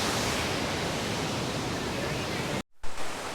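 Water roaring and spraying at Hogenakkal waterfall in Tamil Nadu, a steady broadband rush held at constant loudness that cuts out abruptly near the end before a brief return.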